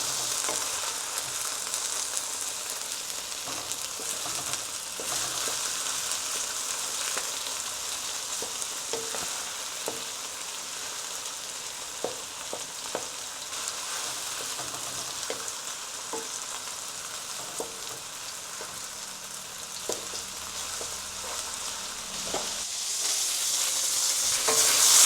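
Miso-marinated chicken pieces fry hard in a hot pan, a dense steady sizzle broken by scattered spatula scrapes and taps as they are sautéed, the hiss swelling louder toward the end.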